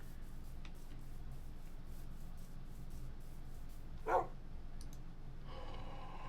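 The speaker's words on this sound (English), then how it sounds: "Now that was another dog." A single short dog bark from a tamed wolf in modded Minecraft rises once midway, moderately close, over a steady low background hum with no talking.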